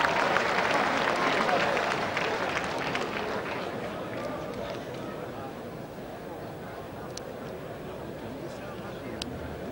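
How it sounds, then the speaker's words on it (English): A wrestling crowd cheers and applauds after a takedown scores two points; the roar is loudest at first, then settles into lingering claps and murmuring voices. "And that'll get a cheer."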